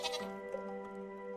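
A goat bleats in the farming video game Stardew Valley: a single short, wavering cry with a nasal tone, heard clearly and close with no talk over it.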